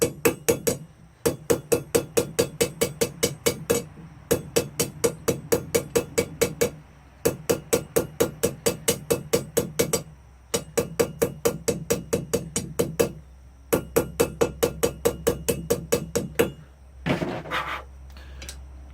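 A hammer beats a taper into steel pipe at a blacksmith's anvil, in fast, even runs of loud ringing strikes broken by short pauses.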